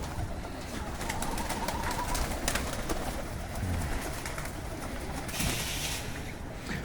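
Domestic pigeons in a loft keep up a steady, overlapping cooing close by, with soft rustling and faint chirps underneath and no talk.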